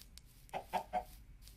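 Minecraft chickens clucking in three short, evenly spaced bursts, faint against quiet game ambience, with no speech.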